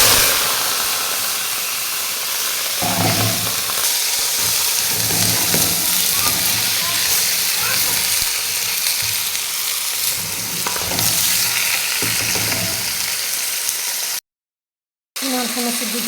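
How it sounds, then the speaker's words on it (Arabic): Chicken, potatoes and onions fry in a pot with a steady, loud sizzle, broken by occasional stirring scrapes throughout, ending in a brief gap of silence near the end. "هنا شنو حبايب عندي الدجاج وبوتيتا وبصل راح نحمسن بالقدر."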